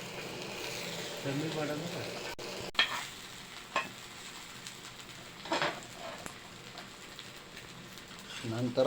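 An egg fries in a hot pan with a steady, quiet sizzle and crackle and a few sharp spatula taps and scrapes. A voice speaks faintly underneath.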